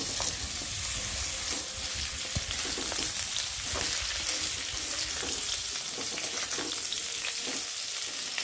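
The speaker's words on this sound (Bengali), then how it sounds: "আর এখন কাঁঠালের এঁচোড়টাকে ভালো করে ভেজে নেব" Young jackfruit (echor) fries in hot oil, making a sustained, crackling sizzle close up with small irregular pops throughout, without any speech.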